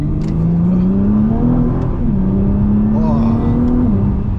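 A Nissan R35 GT-R engine revs and pulls hard on the road, heard from inside the car with a loud, steady drone whose pitch climbs, drops at a gear shift and climbs again.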